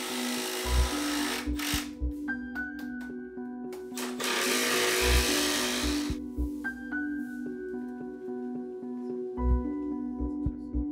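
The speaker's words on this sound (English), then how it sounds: "With the aid of a level, screw or tack the space saver to the studs, making sure it's centered horizontally." A power screwdriver drives screws through a speaker space saver into wall studs during in-wall speaker installation, giving several short bursts of whirring with brief pauses and a few thumps between them, close and fairly loud.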